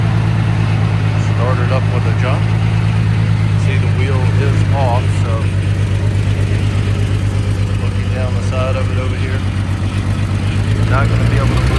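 A 2005 Chevrolet Trailblazer, jump-started at a police auction with one wheel off, runs at a steady low idle throughout, a constant deep drone with people talking faintly over it.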